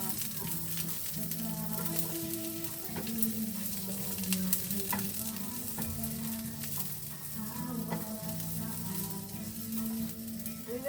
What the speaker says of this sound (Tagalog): So this one is kikiam. We need to fry it